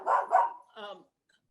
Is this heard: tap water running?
no